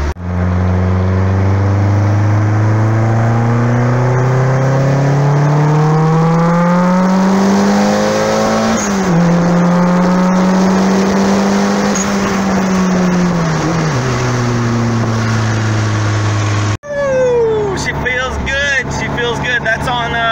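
A turbocharged Honda Integra runs at 13 psi of boost, its close, loud engine drone climbing and sagging in pitch through the revs, then cutting off abruptly near the end.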